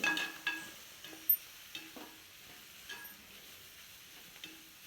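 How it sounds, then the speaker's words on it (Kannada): Grated coconut fries in a pan over a low flame, a faint, quiet sizzle broken by soft scraping stirs and a few light taps of the utensil, close by and with no one speaking. "ತೆಂಗಿನಕಾಯಿನೂ ಅಷ್ಟೇ ಚೆನ್ನಾಗಿ ಫ್ರೈ ಆಗೋ ಥರ ಫ್ರೈ ಮಾಡಬೇಕು"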